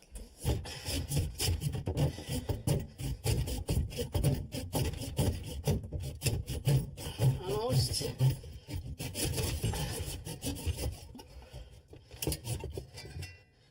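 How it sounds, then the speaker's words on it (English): A hand saw rasps back and forth in steady, rapid strokes close by, cutting through a plumbing pipe trap, with a brief spoken word partway through. "I'm going to use a saw to get rid of that one"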